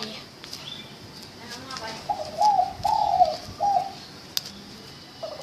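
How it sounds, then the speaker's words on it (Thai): A bird coos in a short series of soft, repeated phrases, heard at a moderate distance over faint background noise. "น่าจะได้ยินเสียงนกร้องนะ"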